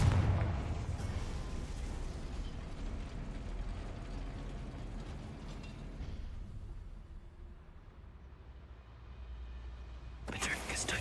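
A Confringo blasting spell from Hogwarts Legacy explodes in a loud, low booming burst that rumbles and fades over several seconds, with a sharp new crack near the end and speech in the background.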